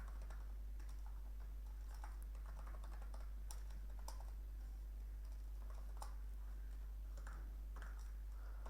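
Text typed on a computer keyboard, a steady run of faint, close key taps over a constant low electrical hum, with no voices.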